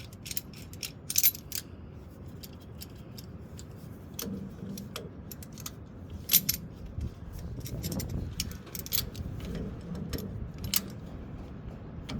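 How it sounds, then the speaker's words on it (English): Vice grips work a part out of a sticking brake caliper, giving scattered metallic clicks, ratcheting snaps and light clatter, close and irregular over a low background rumble. "So now we're gonna take a pair of vice grips. We're gonna get this thing out of here"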